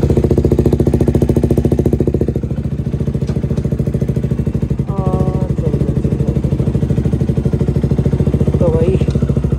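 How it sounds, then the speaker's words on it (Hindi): A motorcycle engine runs close by with a steady, loud, rapid thumping beat that dips slightly after a couple of seconds, with someone speaking over it briefly. "अब तो आवाज़ आ ही रही होगी बाइक की"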